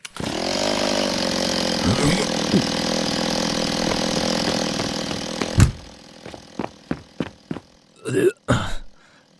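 A chainsaw engine runs loudly and steadily, then cuts off, followed by several sharp clunks and knocks.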